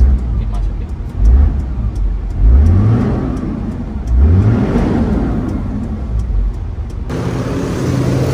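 A Toyota Land Cruiser VX80 with an automatic gearbox and overland setup revs its engine several times in close, loud rising surges over a steady idle, with people talking nearby.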